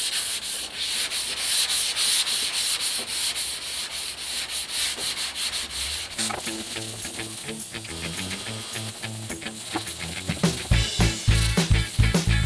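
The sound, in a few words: sanding primer on a Jeep with a foam pad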